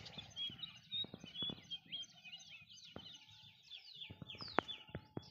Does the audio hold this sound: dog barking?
no